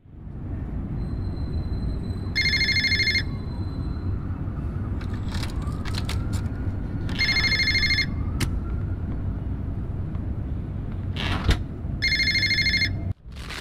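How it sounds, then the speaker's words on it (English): Phone rings in an apartment in the remastered game Fahrenheit: Indigo Prophecy, three spaced electronic rings over a low rumbling ambient bed with a few faint clicks and scrapes. "the phone's ringing already"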